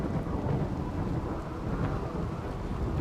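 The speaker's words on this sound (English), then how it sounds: "they're not really going anywhere because it's pouring down rain" Steady rain with low rumbling thunder from a thunderstorm in the game RimWorld, a constant downpour wash under a deep rolling rumble, fairly quiet and continuous with no voices.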